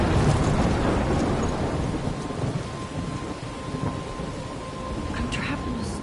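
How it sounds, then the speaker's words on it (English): A thunderstorm in the video game Life is Strange gives steady, loud rain with deep rolling thunder. The downpour holds close and constant throughout, with no voices. "I'm trapped in a storm?"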